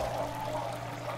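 A T-rex drinking at water in The Isle game: a short, steady pouring and trickling sound, close and continuous, with no voices.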